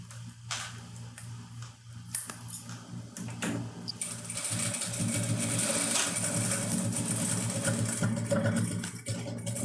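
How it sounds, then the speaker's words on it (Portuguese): A sewing machine runs a steady stitching hum with fine ticking as it sews the lining and zipper channel of a simple piped pouch, growing louder and more continuous partway through, with no talking. "eu vou passar um pezinho de máquina, prendendo o forro e o meu canal do zíper."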